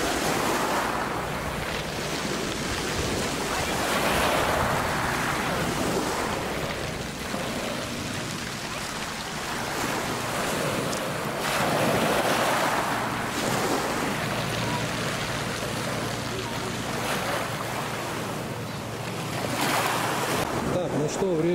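Sea waves rolling onto the beach at Lazarevskoye on the Black Sea, a steady broadband wash with swelling surges every few seconds, continuous and fairly loud, with wind noise throughout.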